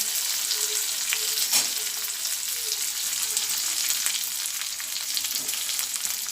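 Cashews and raisins frying in a pan for vermicelli kheer give a dense, even sizzle throughout, with a few faint scrapes of a stirring spoon.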